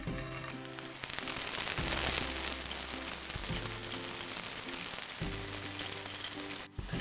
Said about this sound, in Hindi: ऑयल गर्म हो गया, इसको मीडियम हाई फ्लेम पे एक एक करके मैं सारे फ्राई करती जाऊंगी